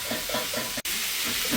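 Marinated beef for Hungarian goulash sears in a hot pan with a loud continuous sizzle and hiss, briefly cut off by a short dropout before the frying resumes.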